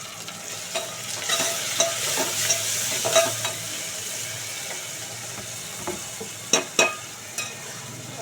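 Tomatoes frying in a pan for a vegetable dish, a soft steady sizzle broken by intermittent spoon clinks and scraping stirs, louder knocks near the end, close by and without talking.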